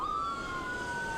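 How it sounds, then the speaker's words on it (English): Sirens of two ambulances passing on a flooded San Diego freeway, the 15 northbound, one loud wailing tone sliding steadily across the whole moment with no talk. "I do see as these two ambulances go by"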